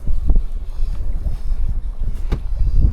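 Gusty wind at Jones Lake in British Columbia, Canada, buffets the microphone with a steady low rumble and scattered thumps, loud and close throughout.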